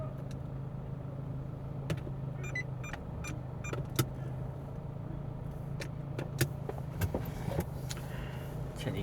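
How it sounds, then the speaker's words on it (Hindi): Vehicles begin unloading from a ferry's car deck, heard as a low, steady engine hum from inside a car with scattered sharp clicks and knocks over it. "अब गाड़ियाँ ऑफलोड होना शुरू हो गई हैं फेरी से।"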